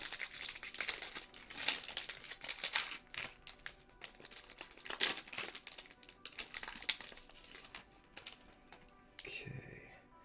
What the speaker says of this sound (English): Open this pack here.